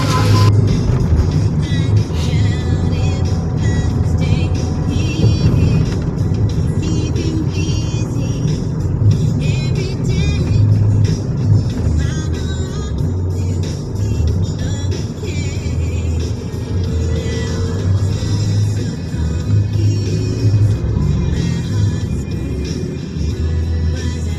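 Inside a six-seater Grab car on the move, with a steady low engine and road rumble that stays loud and continuous throughout, with no talk.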